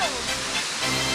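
Kaparkan Falls in Tineg, Abra, a waterfall heard as a steady, broad rush of falling water that fills the whole moment without pause.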